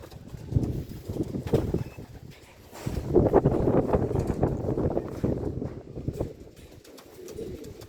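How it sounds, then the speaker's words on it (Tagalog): A ringed blue-bar pigeon coos softly and repeatedly at close range, its low throaty calls rising and falling in a relaxed rhythm over light background noise. "So ito mga tol, yung ibon."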